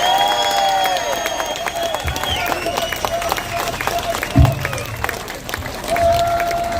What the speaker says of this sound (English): And a big round of applause for Tommy.